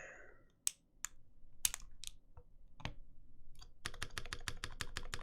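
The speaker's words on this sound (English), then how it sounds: "Let's just try another spacebar real quick, see if it's happening on this guy." Keys on an Iron165 keyboard with NovelKey Cream switches, including the spacebar, give a few sparse, sharp, close clacks. A quick rapid run of presses follows, with no talking.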